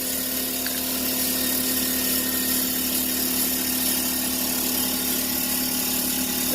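A loud air compressor runs steadily in a garage during an 83 Oldsmobile Cutlass Supreme build, a constant droning hum with a strong low tone and broadband rattle, no talk.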